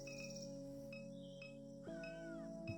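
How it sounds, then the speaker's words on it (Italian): A cat meows in the video game Norco, a faint, brief vocal cry set against a quiet, steady tonal game soundtrack. "Questo è un gatto invece."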